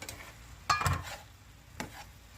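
Pork adobo with string beans stirred in a pan right after vinegar goes in, a couple of brief scraping clatters over a soft low sizzle, fairly close, no talk.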